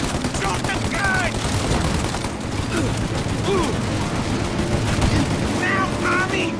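Sustained gunfire from the Mafia: Definitive Edition video game, a dense continuous fusillade of rapid shots filling the whole stretch, with game voices shouting over the battle noise.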